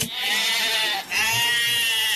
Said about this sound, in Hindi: बकरी। सही पहचाना।